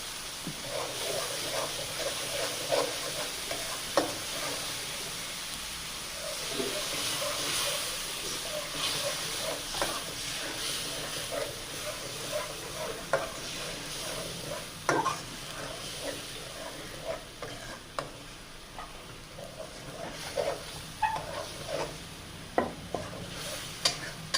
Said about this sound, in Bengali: পেঁয়াজ আর রসুন বাটা দিয়ে দিলাম, ভালো করে ভেজে নেব।